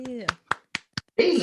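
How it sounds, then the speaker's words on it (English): Four crisp hand claps very close to the microphone, evenly spaced and loud, with a voice speaking just before and a burst of talk right after. "ASMR clapping for your viewing pleasure."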